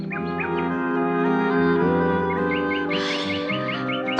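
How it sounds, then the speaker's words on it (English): Chirping birdsong of a robin and a willow warbler in woods, repeated short piping phrases over a steady sustained musical backdrop, continuous and fairly loud. "Galldora could hear the piping sound of a robin and the soft, trickling song of the willow warbler"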